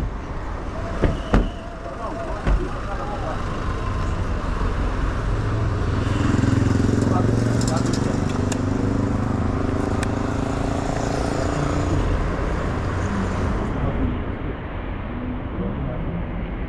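A motorcycle engine runs nearby amid road traffic during a street stop, its drone rising and falling over several seconds while voices talk over it.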